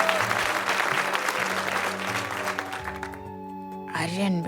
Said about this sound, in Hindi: सबने ताली बजाई